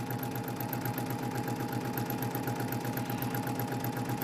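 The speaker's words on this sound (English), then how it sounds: "I'll sew this one a little bit more slowly" A sewing machine stitches at a slow, steady pace while edges are held lined up, giving a continuous, even mechanical whir with a regular rapid ticking throughout, close and alone.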